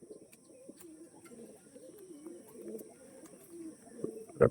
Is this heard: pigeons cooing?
yes